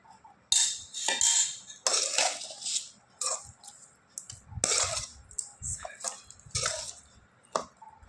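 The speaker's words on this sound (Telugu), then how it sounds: "అన్నంలో ఈ యొక్క పెరుగు మిశ్రమాన్ని తగినంత వేసుకొని కలయి పెట్టుకోవాలి" Spoon clinking against a steel plate while curd mixture is mixed into cooked rice, with irregular scrapes and soft squishy sounds repeating close up.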